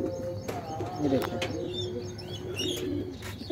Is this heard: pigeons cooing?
yes